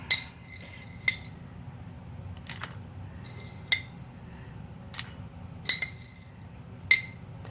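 A metal measuring spoon scoops dry Thrive beef crumble from a jar, giving a series of light, crisp clinks and scrapes spaced a second or so apart, close and fairly quiet.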